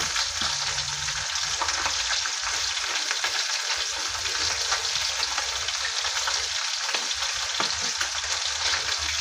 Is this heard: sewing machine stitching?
no